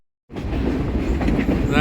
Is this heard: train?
yes